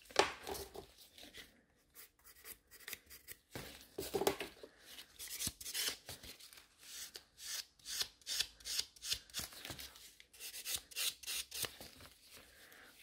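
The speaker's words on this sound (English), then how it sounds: "Now we are going to take a buffer and we are going to make the nails nice and smooth." Rapid scratchy rubbing of a nail buffer smoothing sculpted almond gel nail extensions, close and fairly quiet, in irregular bursts of strokes with brief pauses.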